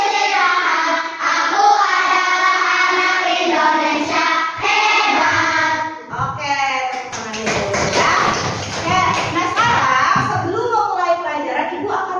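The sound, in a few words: children clapping a clap chant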